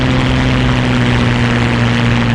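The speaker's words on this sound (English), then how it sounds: "plane sounds so good" A warbird's piston engine and propeller from the DCS flight sim drone loudly and steadily, a close, constant buzzing hum with no break and no voices over it.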